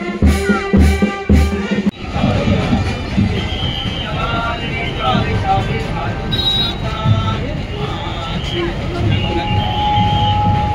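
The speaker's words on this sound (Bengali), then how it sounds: "এই হচ্ছে ট্রেন ঢুকছে এবারে" A decorated train pulls into Budge Budge station with a loud, continuous rumble of wheels and carriages. Voices come through near the start, and the noise stays steady and close throughout.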